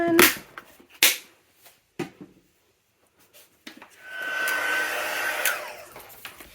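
A few sharp handling taps and clicks lead into a heat tool's steady, close blowing whir as it heat-sets embossing powder on a gift card holder, running without break to the end.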